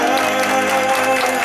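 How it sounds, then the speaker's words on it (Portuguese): A crowd at a birthday celebration for Maria in Itaquera applauds the honoree, a loud, continuous rush of clapping laid over a steady musical backdrop. "Uma salva de palmas para a nossa homenageada."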